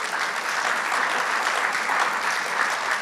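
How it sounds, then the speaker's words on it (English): Audience at a city breakfast meeting applauding volunteers, a dense, even burst of clapping from many hands filling the room for a few seconds. "please give yourself a round of applause"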